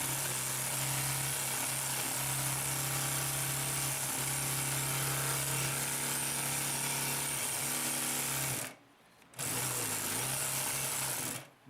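A Consew P2339 double needle walking foot sewing machine runs at full speed, a steady loud mechanical whir with a strong low hum that cuts out briefly near the end before resuming, with no talking.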